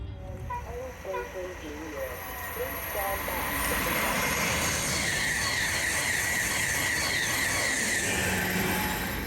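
An Amtrak Acela high-speed train passes at 160 mph, its sound building from about three seconds into a loud, steady roar with a broad hiss and rumble. Speech-like tones are heard briefly at the start.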